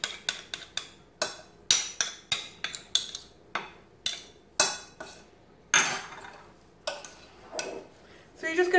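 Utensil clinking and scraping against a bowl while peanut butter and softened butter are stirred together by hand: a quick run of sharp taps and scrapes, then a brief softer rustle near the end, all close and fairly loud.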